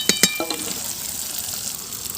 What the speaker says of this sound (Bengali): এবার ভালো করে কষে নেব মশলাটাকে